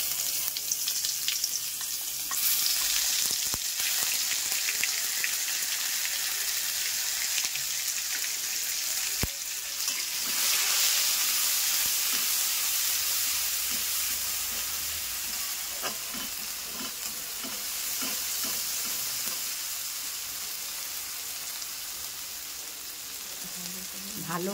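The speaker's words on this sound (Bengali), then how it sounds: "ভালো করে একটু ভেজে নেব" Cumin and turmeric spices sizzling and frying in a hot pan, a steady bright crackle with occasional stirring scrapes, close and continuous throughout.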